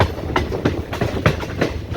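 A passenger train pulling into Haripad station in Kerala, on the Kayamkulam to Alappuzha line, gives a loud, steady rumble with rhythmic clickety-clack wheel beats coming through close by.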